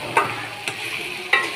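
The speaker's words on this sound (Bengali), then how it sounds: "আজকে লাস্ট ইফতারির ছোলা বাজতাছি" Chickpeas fry in a pan for iftar and are stirred in three distinct scraping strokes spaced apart, over a steady low sizzle, close and fairly loud.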